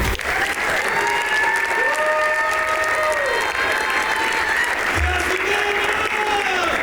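Sustained applause from an awards ceremony audience, steady and full throughout, while a loud tonal sound with rising and falling pitch sits over the clapping and a thump lands near the end.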